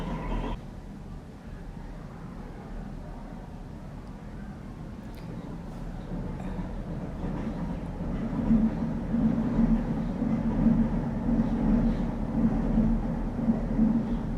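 A low, steady rumble of a train passing outside builds gradually and grows louder toward the end, heard from some distance indoors, with birds outside.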